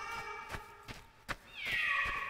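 A few short cat meows come close together, separated by soft taps, followed by a longer drawn-out meow at the end.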